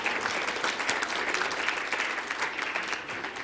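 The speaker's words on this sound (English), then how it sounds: "Round of applause" Steady applause from an audience at an evening award event, dense and continuous clapping filling the whole stretch at fairly close range, with no speech over it.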